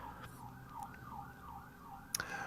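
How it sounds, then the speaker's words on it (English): An emergency vehicle siren wails outside in a steady rising and falling cycle, distant and muffled, with a brief sharp knock near the end. "More sirens on my end."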